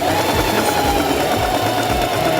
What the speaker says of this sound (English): Then you're going to do the stitch on this side